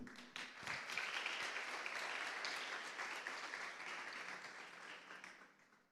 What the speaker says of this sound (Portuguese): Quem foi abençoado pode aplaudir.